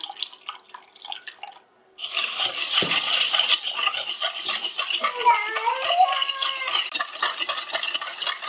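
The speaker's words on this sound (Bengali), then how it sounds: "আমি এইভাবে হুইক্সটা দিয়ে ভালো করে ঘেঁটে চিনিটা খুব ভালো করে চিনিটা খুব ভালো করে গলিয়ে দিচ্ছি" A whisk stirs milk and sugar in a pot while the sugar melts into the milk for an eggless palm cake. Steady scraping and swirling runs close and clear, with light liquid clinks and drips after a quiet start.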